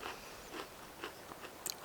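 Crunchy pizza-flavored snack chewed outdoors on a breezy hiking trail, a few soft close crunches spaced through a quiet stretch, with one sharper bite near the end.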